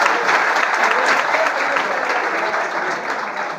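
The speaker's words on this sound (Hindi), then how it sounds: "जोरदार तालियां युवा साथियों के लिए, आप सभी के लिए" A large crowd at a Meghwal community gathering applauds loudly for young achievers, a thick, sustained roar of clapping that stays strong and fairly close throughout.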